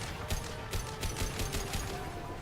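Video game gunfire, a quick, fairly faint run of repeated shots with a regular rapid rhythm over steady background noise, no talking.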